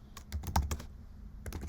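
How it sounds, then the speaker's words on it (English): Keys clatter on a computer keyboard in two short bursts of quick, close taps separated by a brief pause, with no voices over them. "by typing in the name of the script itself"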